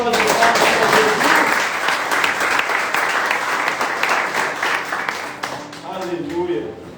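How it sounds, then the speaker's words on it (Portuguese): A church congregation applauding during a service: dense, steady clapping from a large crowd that holds for several seconds and then eases slightly toward the end. "dando a sua melhor salva de palmas para Jesus"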